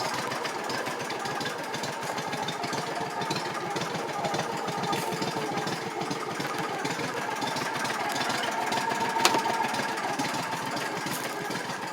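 A 2014 Landmaster LM650 utility vehicle engine idles steadily, a continuous mid-pitched motor drone with faint knocking texture that stays even and close throughout, with no talk.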